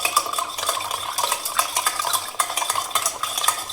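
A spoon stirs lemon sherbet full of ice cubes in a glass, giving close, steady clinking and rattling of ice against glass and metal for several seconds, with no voices.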